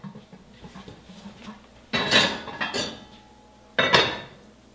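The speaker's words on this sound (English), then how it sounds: "we're going to take our Dutch oven over to the stove" A heavy Dutch oven is lifted and set down on a stove in a kitchen, giving two loud metallic clanks with rattling in between, after a few quieter handling knocks.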